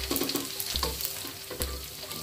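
Fishless pempek frying in hot oil gives a close, steady sizzle with bursts of crackling and spattering. No one speaks.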